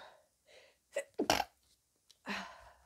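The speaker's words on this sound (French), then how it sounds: "Je vais éternuer." A single sharp sneeze, preceded by a couple of soft breaths and followed by a quiet exhale, recorded close in an otherwise quiet room.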